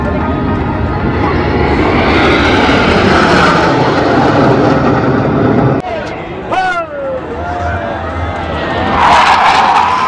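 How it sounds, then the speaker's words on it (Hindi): A fixed-wing airplane passes overhead at an air show in Prayagraj, Uttar Pradesh, its engine roar swelling loud and close above crowd chatter, with a whistle and cheering near the end. "और अभी आज के एयर शो का आखिरी विमान आ रहा है"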